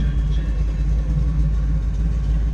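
A 1948 Chevrolet Stylemaster two-door street rod idles close by, a steady, deep, loud rumble with an even rhythm and no voices over it.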